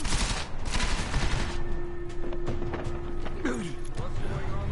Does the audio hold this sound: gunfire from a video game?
yes